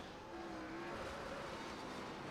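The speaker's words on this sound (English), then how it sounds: "That car is dragging something." A race car in a 1987-style Cup Series racing game at Darlington drags a detached part, its left front tire not rotating properly, under caution; a steady engine drone runs with a scraping, rubbing rasp and faint tonal whine throughout.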